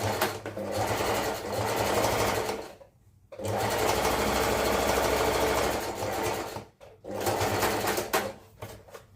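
Sewing machine stitching a half-inch seam on baggy pants, loud close bursts of fast whirring stitches broken by two short pauses.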